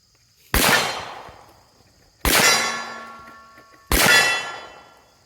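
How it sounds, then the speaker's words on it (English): Three loud revolver shots strike a steel target at a steady pace about a second and a half apart, each a sharp crack followed by a long, bright metallic ring that fades away. "I'm going to shoot these last 4 rounds that I've got to my name."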